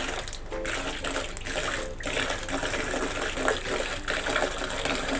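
Water runs steadily from a tap on a tank line, a continuous loud gushing stream with no voices.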